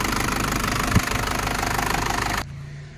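An Isuzu Adventure's 3.0 DI turbo diesel engine runs at idle, a steady close knocking clatter with a brief thump, before the sound abruptly drops to a quieter hum near the end.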